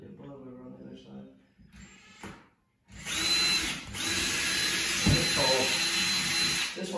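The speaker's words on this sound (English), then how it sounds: "So we're gonna go ahead and drill for this." A power drill bores a hole in a bathroom wall to mount a reclaimed-wood shelf. Loud, continuous drilling runs for about four seconds, close to the mic, after a brief stretch of talking and a short pause.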